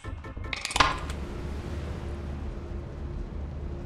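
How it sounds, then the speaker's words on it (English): One sharp, loud video game gunshot in Lethal Company cracks out early, then rings off in a fading metallic tail over a steady low rumble. "I heard a single gunshot"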